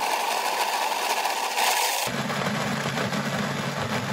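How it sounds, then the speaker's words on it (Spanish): A kitchen blender whirs loudly as it blends plums and masa for atole. After about two seconds the motor tone shifts into a deeper, steady grinding drone that keeps going to the end. "La volvemos a licuar otra vez."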